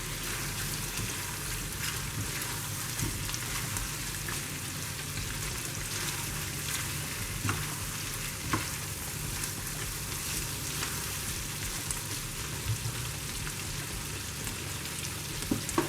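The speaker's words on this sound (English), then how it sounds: "I'm just gonna mix all this corn with the shrimp." Shrimp and corn being stirred together in a hot pan, a faint, steady sizzle and crackle with occasional soft scrapes, no voices.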